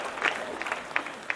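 An audience applauds at a community gathering, a brief, fairly faint patter of scattered claps with a few sharper hand strikes standing out.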